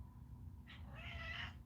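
A house cat lets out a short chirp followed by a longer drawn-out meow nearby, heard over a quiet background hum with no one speaking.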